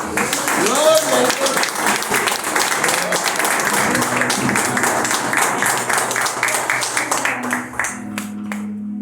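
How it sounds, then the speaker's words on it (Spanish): Church congregation gives a round of applause, scattered clapping running under a speaking voice before fading near the end. "¿Le damos una ofrenda de aplauso?"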